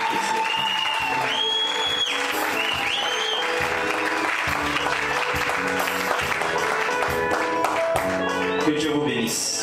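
Congregation in a church applauding during a first-anniversary worship service, steady dense clapping throughout, mixed with music and voices.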